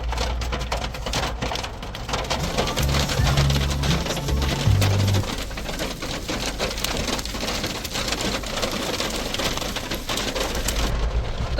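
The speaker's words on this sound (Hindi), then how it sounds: "गाइस क्या गजब ओले पड़ रहे हैं" Hail falling on a road and pelting a Suzuki Jimny on a mountain road trip: a loud, dense, continuous drumming patter on the car body with a low rumble underneath, no speech.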